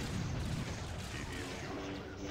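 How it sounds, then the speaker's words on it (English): Artillery bombardment in the Star Wars Empire at War video game, a faint, muffled rumble of distant booms and blasts rolling under low game sound. "Bombardment incoming."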